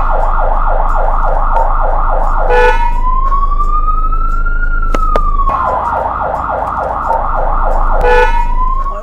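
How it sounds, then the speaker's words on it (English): A loud fire truck siren cycles between a rapid yelping warble and a long rising-and-falling wail, close by, over a low engine hum and a couple of sharp clicks. "I'm pretty excited to hear the sirens and see the flashing lights"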